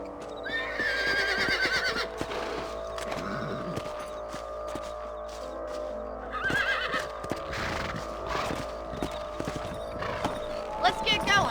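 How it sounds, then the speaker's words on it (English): Horses in the Red Dead Redemption game whinny and snort over steady clip-clopping hooves, a close, lively mix of neighs and hoofbeats with a low background drone throughout. "Let's get back on the horses and see what else is going on."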